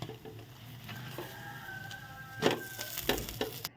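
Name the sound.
paratha frying in a pan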